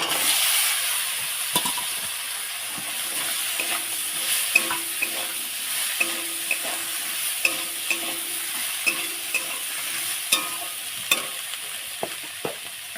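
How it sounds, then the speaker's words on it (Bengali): Chilli, turmeric and cumin fry in a pan with a continuous hissing sizzle, while a spoon scrapes and taps the pan at a fairly regular pace throughout. "আমরা লঙ্কা হলুদ জিরে একটু ভালো করে ভেজে নেবো"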